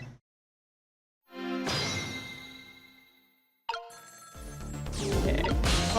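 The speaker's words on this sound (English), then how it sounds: "let's get to that phone before it stops ringing" A telephone rings in the video game Ghost Trick: Phantom Detective, a loud electronic bell tone that swells and fades, breaks off, then returns with a sharp onset and builds to a denser, louder ring.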